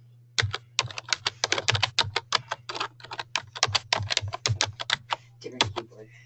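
Rapid, uneven keystrokes on a computer keyboard as someone types login details, close and crisp, with a steady low electrical hum beneath and a brief faint voice near the end.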